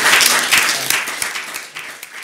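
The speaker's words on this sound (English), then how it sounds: "A big applause." Conference audience applauding after a book-launch discussion on the Habsburg Monarchy legacy; a dense, steady wash of many hands clapping close by, tapering slightly toward the end.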